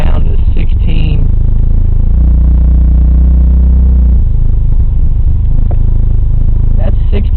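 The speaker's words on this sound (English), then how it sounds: "The vehicle will barely even idle at this point." Mitsubishi Starion engine with advanced ignition timing, barely holding idle: a loud, close, lumpy low rumble that swells in the middle and then settles, with a voice talking over it.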